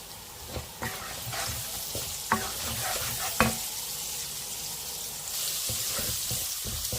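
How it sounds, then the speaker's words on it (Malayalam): Chopped garlic and ginger sizzle in hot oil in a pan while apple pickle is being made, a steady frying hiss broken by a few sharp clinks and stirring knocks. "നുറുക്കിയ വെളുത്തുള്ളി ഇഞ്ചി ഇവിടെ അങ്ങ് ഇട്ട് കൊടുക്കുവാണേ"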